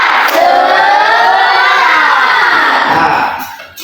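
A classroom of children at a Christian religious lesson chants loudly in unison for tepuk semangat, a steady shouted rhythm close by that fades near the end; any clapping is buried under the voices.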